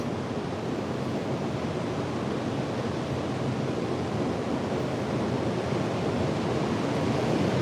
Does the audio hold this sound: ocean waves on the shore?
yes